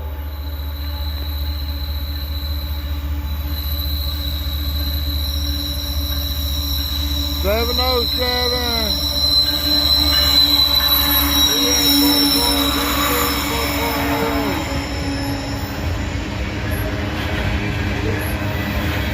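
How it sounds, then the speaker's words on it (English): A fully loaded Norfolk Southern coal train rumbles past steadily, wheels squealing and screeching on the rails in bursts, with a person speaking briefly over the noise. "SCWS coal train fully loaded."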